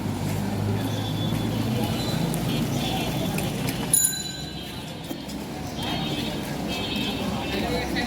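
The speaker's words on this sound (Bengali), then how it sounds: "রাস্তার গাড়ির শব্দে কথা বলা যায় না।" Street traffic along a residential road with rickshaws about, a steady broadband rumble of passing vehicles throughout, a brief bump near the middle, loud and continuous from close by.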